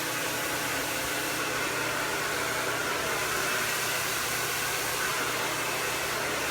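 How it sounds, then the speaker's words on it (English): Hair dryer blow drying hair over a round brush, a loud, steady whooshing roar of airflow close by, continuous and unbroken throughout. "you're blow drying from both sides"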